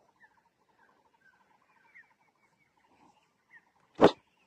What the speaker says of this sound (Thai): โอ้ไก่ป่าหลายเลย